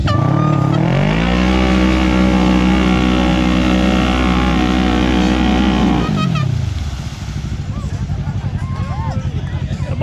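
A Kawasaki KRX on 35-inch tires and a Can-Am X3 side-by-side rev hard in a tug of war, a loud sustained engine drone that drops off after six seconds to rough idling, with voices over it.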